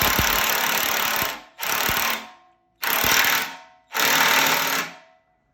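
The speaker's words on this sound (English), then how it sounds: "that bushing is getting pressed in by the Z1 Motorsports bushing tool" A Z1 Motorsports bushing press tool drives a differential bushing into place, giving four loud, close bursts of harsh mechanical grinding and rattling, each over a second long and separated by short silences.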